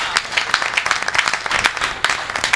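Audience applause at a Hindi hasya kavi sammelan comedy poetry recital, a dense steady patter of many hands clapping throughout with a few sharper claps standing out.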